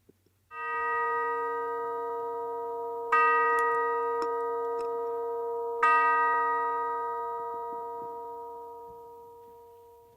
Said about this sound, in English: So we begin our service with the temple chimes